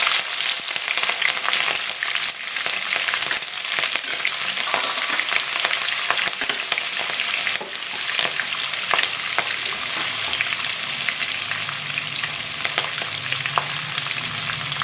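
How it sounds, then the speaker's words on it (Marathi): Mustard seeds crackling and popping in hot oil, then green chili dropped in, producing a loud, continuous sizzle with sharp snaps throughout. "मोहरी टाकली आहे आपण मोहरी चांगली तडतडी द्या त्यानंतर हिरवी मिरची टाकली"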